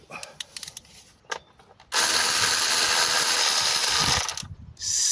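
A ratchet wrench fitted with a 14 mm socket clicks in quick bursts on a loose starter bolt of a Honda Civic, followed by a long harsh sustained mechanical rasp, close and loud.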